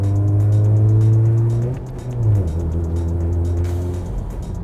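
A Mazda RX-8 rotary engine revs hard and loud through gear changes, its steady drone dropping sharply between shifts before pulling up again, heard from inside the car with no talk.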